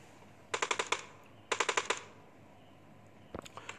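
Gunfire from PUBG on the Miramar map during a custom match: two sharp bursts of five or six rapid shots, each well separated, then a brief faint flurry of distant shots near the end.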